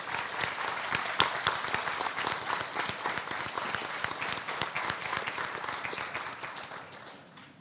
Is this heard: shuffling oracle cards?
no